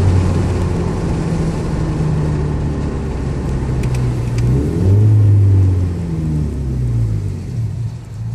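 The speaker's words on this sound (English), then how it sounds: "It's got a nice tone to it, doesn't it? And this is just an axle back." An automatic Scion FR-S revs at about half throttle through an axle-back exhaust with a resonator. It gives a steady, loud, droning engine note that swells once in the middle, with no one talking over it.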